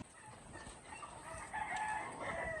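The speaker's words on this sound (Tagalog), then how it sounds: "yung mga manok natin, ang lalakas nilang kumain." Chickens cluck and a rooster crows amid a busy flock, several birds calling at once at moderate distance.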